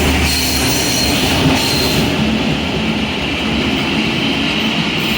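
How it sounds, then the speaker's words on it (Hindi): Locomotive 8317 hauls a string of rail cars past on a morning run through the Potohar countryside, a loud, close, continuous rumble of wheels and rolling stock with faint squealing and no letup. "जिगर लोकोमोटिव जा रहा है"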